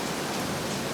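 Heavy rain hisses as a steady, dense wash of noise, close and continuous throughout with no voices.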